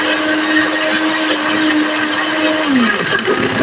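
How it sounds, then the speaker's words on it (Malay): Loud, steady whirring of a blender grinding cooking ingredients with water close by, its motor pitch holding constant then dropping near the end as it winds down. "kesemua bahan-bahan tersebut saya akan masukkan dalam pengisar kerana saya nak kisar"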